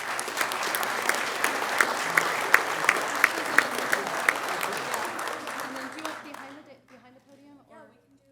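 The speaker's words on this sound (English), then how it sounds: "I wanted everybody to see this team and give them a round of applause." A city council meeting audience applauds a team, a dense round of clapping with a few sharp close claps, fading out near the end as voices begin to talk.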